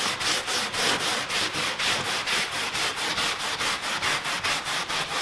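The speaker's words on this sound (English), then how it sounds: "just take your Tough Shine or stiff bristle brush and scrub it all down really good" A stiff bristle brush scrubs a car floor mat in fast, even back-and-forth strokes, a dry rhythmic rasp about four strokes per second, close and alone.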